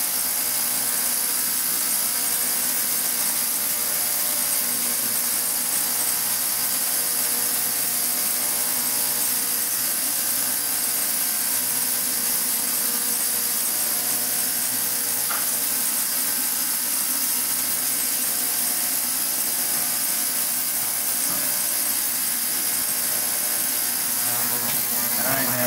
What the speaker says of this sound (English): See how the ultrasonic device takes the carbon right off of it.